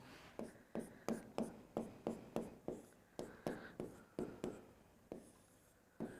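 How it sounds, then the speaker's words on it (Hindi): A pen scratches out handwritten notes during a science lesson, giving faint, close, regular strokes in a steady rhythm with short pauses and no speech. "वो 2 लाइनें नोट में लिख लेते हैं"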